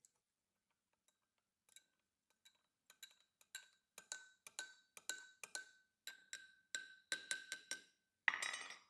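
A bar spoon clinks against a glass of spiked peppermint hot chocolate as it is stirred. The clinks start sparse and grow into a quick run of close, bright ticks, then finish in a short rattling burst.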